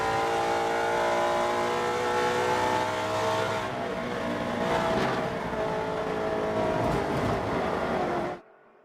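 Vintage race cars battling in the SGT class at Circuit Of The Americas roar past at full throttle, a loud, sustained multi-engine howl with shifting revs that cuts off abruptly near the end.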